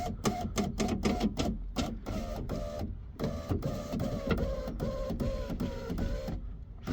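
Power window regulator motor in a 2017 Mitsubishi Outlander, a window that will not stay down, runs with a rapid, rhythmic mechanical clatter of repeated clicks and whirring bursts, close and continuous for several seconds.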